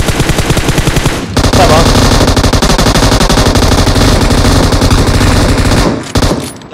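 Sustained automatic gunfire from PUBG Mobile, rapid continuous bursts filling nearly the whole stretch, loud and dense, with a brief pause near the start and another near the end.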